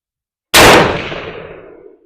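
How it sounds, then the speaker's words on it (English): A single sharp, loud gunshot from another shooter sharing an outdoor shooting range, with a hard crack followed by a ringing tail that fades over about a second and a half. "Guys, we're sharing the range today with somebody, so if you hear background noise, that's all it is."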